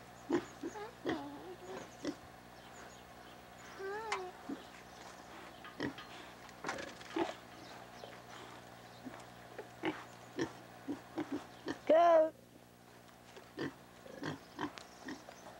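A pig at a farm enclosure near sheep and goats gives scattered grunts and oinks, some close and loud, with one sharp squeal-like burst midway, over a quiet background.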